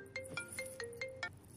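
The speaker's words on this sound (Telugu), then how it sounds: "సారీ, కొంచెం ఇంపార్టెంట్ ఫోన్ కాల్." A mobile phone ringtone plays as a short electronic melody of about six evenly spaced bright beeps over a steady tone, moderately near and alone, in an indoor scene.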